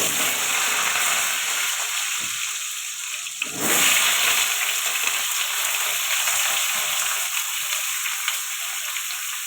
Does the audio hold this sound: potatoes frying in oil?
yes